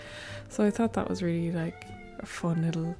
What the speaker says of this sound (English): sorry if you can hear my cat screaming in the background